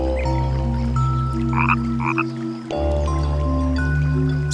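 Frogs croak in a sustained, loud chorus of overlapping tonal calls, with a brief drop near the middle before the chorus resumes, heard outdoors in a wetland where frogs are hunted by tiger keelback snakes.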